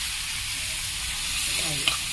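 A prepared spice mixture cooking in a pan, giving a dense steady sizzle with a faint stir toward the end, close and fairly loud, with no voices.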